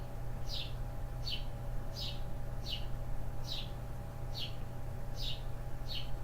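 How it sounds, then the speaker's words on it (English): A pet bird chirps about ten times in a steady, evenly spaced series, sharp and fairly near over a constant low indoor hum. "Hear my bird chirping."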